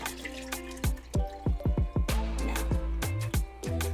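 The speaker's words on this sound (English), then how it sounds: "you're going to pour this cup of water into the pot" Water poured from a cup into a ceramic pot for turmeric tea, heard as a run of close drips and splashes followed by a steady gurgling pour, with no one talking.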